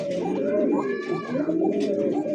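Pigeons coo in low, rolling bursts close by, a fresh adult Arabian coca-type bird among others, with faint background chatter and rustle around the steady throaty calls.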